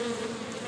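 Honey bees swarm over a hive frame on a London rooftop, giving a steady, close buzzing drone over less than a second.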